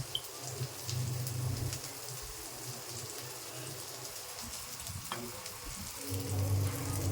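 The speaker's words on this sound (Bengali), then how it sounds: "তেলের মধ্যে পেঁয়াজ কুচি দিয়ে দিলাম।" Chopped onion hits a tablespoon of hot oil in a karai wok, giving a steady, close hiss and crackle of frying that runs unbroken without talk.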